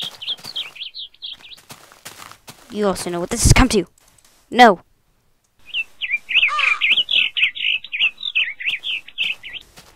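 Chirpy bird calls from a Minecraft game world sound in quick repeated bursts at the start and again near the end, with a voice talking and shouting between them.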